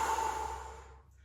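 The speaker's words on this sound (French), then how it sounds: "ce sera une inspiration et une expiration par la bouche" A single long breath is drawn and released through the mouth, a close airy exhalation that fades gradually into quiet.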